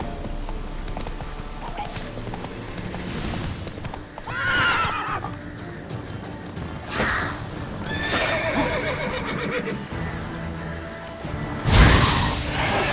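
Roach, Geralt's horse in The Witcher 3, neighs in several loud whinnying bursts over rhythmic clip-clopping hooves, with swishing movement and a heavy thump near the end.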